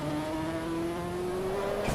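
A high-revving Ferrari racing engine in the racing game Assetto Corsa EVO drones steadily with a rising tonal whine, building toward the end, no voices.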